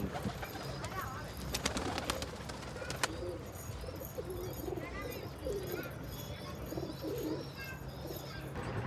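Pet pigeons, including a Gulabbaaz with border markings and a Laaldam King, coo softly at a loft alongside scattered chirps and ambient noise, with background voices.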